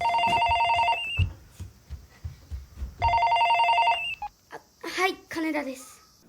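A telephone rings in a live-action Tetsujin 28 film: two loud, bright electronic ring bursts with a pause between, followed by a child's startled vocal reactions.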